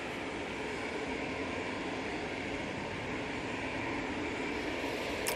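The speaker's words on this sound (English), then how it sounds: "So let's get this PC-12 going out." Pilatus PC-12 turboprop departing Manchester Airport, a steady, continuous broadband engine roar at moderate distance, holding even in level throughout with no voices.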